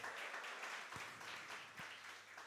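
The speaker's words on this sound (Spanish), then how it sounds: "Denle un aplauso a Cristo." Faint, distant applause from a church congregation, a soft continuous patter of clapping with a couple of low thumps.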